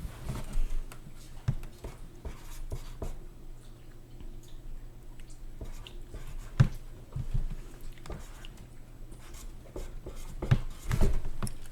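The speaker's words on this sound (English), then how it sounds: "I need to write down the number for this" Pen scratching on paper while a number is written down, soft irregular strokes and taps close by over a low background hum.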